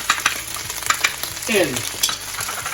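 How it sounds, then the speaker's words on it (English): Chopped garlic, about six cloves, frying in a pan with a steady close sizzle, punctuated by clinks and stirring scrapes, with no one talking. "I'm gonna add, I think like 6 cloves of garlic chopped. In."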